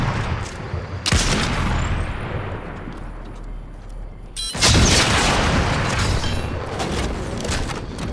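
Heavy explosions boom in Fortnite from an airstrike, with a loud blast near the start and a second, bigger one midway, each followed by a long rumbling roar that fills the rest of the stretch.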